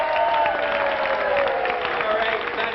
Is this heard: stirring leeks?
no